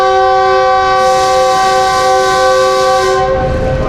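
Loud, sustained multi-tone departure horn of the Khushhal Khan Khattak Express at Peshawar Cantt station, sounding steadily for about three seconds before cutting off into station ambience.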